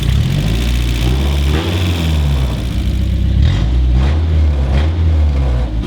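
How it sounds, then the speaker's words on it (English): A Miata engine swapped into a Datsun roadster runs with open headers through a one-inch exhaust, giving a loud, raspy, close idle with steady low rumble and a few slight revs. "A Miata motor with open headers through a 1-inch exhaust does not sound good, but it's running."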